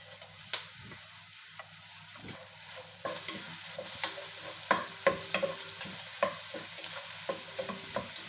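Whole spices, cinnamon, cardamom, bay leaves and star anise, are stirred in a pot of sizzling oil for Arabic majboos, with a soft steady fry under irregular scraping clicks that grow busier partway through.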